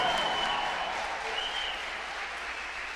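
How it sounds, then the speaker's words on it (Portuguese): Applause from a standing church congregation for Jesus during a sermon, a dense, even wash of clapping filling the whole moment without pause. "Cadê a salva de palmas para Jesus?"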